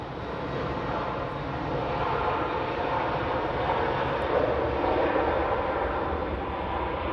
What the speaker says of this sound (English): Emirates A330 heading to Barbados.